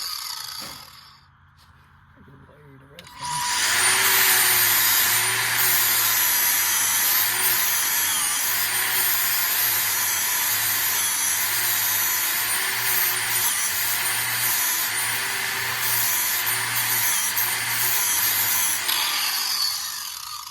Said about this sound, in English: so you can watch me grind this one down